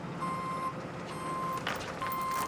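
Reversing truck at a gold mining site emitting steady electronic backup beeps, three evenly spaced long tones, moderately distant over low machinery rumble.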